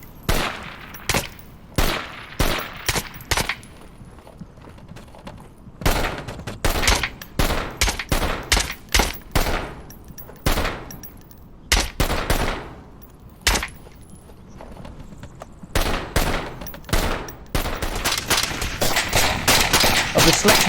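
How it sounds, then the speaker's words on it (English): Rapid bursts of gunfire ring out at a shooting range in the VR military shooter Onward, with dense volleys of sharp shots coming in clusters, separated by brief pauses and racking sounds, loud and close throughout. "test out all your weapons, attachments, gadgets, and run the excellent kill house to practice your snap shooting"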